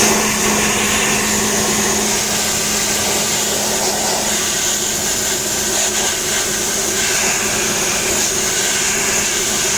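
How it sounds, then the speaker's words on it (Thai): A vacuum pump evacuates the air conditioning system of a 2017 Toyota Yaris, producing a loud, steady, unbroken mechanical whine and hum that holds constant throughout with no talking. "กำลังทำการแว็กนะครับนี่ เกินลบ 30เป็นที่เรียบร้อย"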